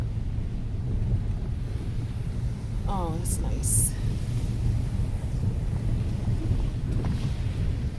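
Waves smashing against boulder rocks on the Jamaican coast in the parish of St. Thomas, a steady low roar and wash with wind buffeting, a brief bird chirp, and a short spoken remark over it.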